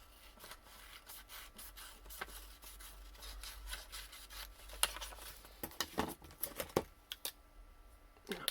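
Paper journal petal being trimmed at a craft table, quiet scratchy rubbing and cutting strokes, then sharper irregular snips and taps growing louder toward the end, with no voices.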